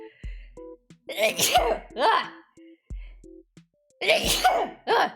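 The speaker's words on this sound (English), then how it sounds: "I've got to sneeze." Two sharp bursts, a sneeze or cough, break through among short vocal sounds and breaths, with a low thump under each.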